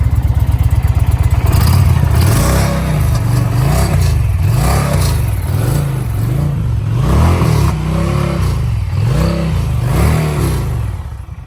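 A 2023 Indian Pursuit motorcycle engine revs up close and loud, repeated throttle blips rising and falling in a rhythmic pattern with a whining tone over a deep idle.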